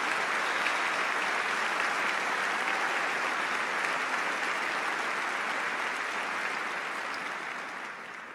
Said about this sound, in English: I would like everyone in attendance to give these graduates a big round of applause